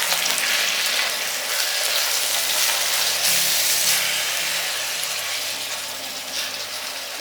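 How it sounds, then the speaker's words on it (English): Minced meat sizzles loudly in a hot pan while being stirred for a Turkish cabbage stew, a dense, continuous frying crackle close up with no talking. "I'm adding my minced meat now. The more the minced meat in this meal, the richer. I am stirring immediately."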